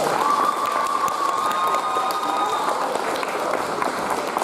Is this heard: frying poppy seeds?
no